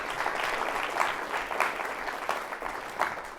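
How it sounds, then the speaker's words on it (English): An audience at a university business pitch contest applauds the finalists, a fairly soft, steady patter of many hands with a few louder claps standing out, continuing without a break. "another round of applause for these finalists"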